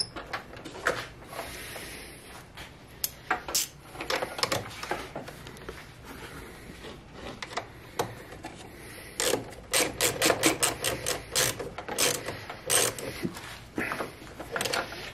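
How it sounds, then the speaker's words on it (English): Battery terminal being reconnected on a Subaru with a 2.5L engine: a close run of sharp metallic clicks and ratchet-like bursts, irregular at first and then quickening into a dense cluster of clicks near the end. "So I'm going to go ahead and connect the battery back up."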